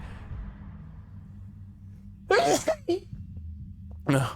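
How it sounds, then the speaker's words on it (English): A sharp, breathy sneeze bursts out after a quiet stretch, with a smaller follow-up sniff and another sneeze starting at the end, close and loud. "pardon me, I'm gonna sneeze."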